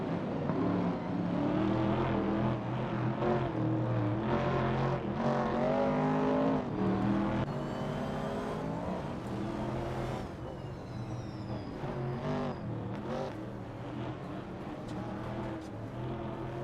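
Vintage Trans Am race cars roaring on a track, engines droning loudly and continuously with shifting pitch as they race, a dense, sustained motor noise throughout with no talk.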